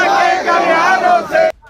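A crowd of protesters at a political rally in India shouting together in a loud, sustained massed roar of voices, cutting off abruptly near the end.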